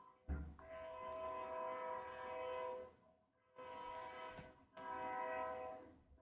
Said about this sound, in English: And there's the train whistle.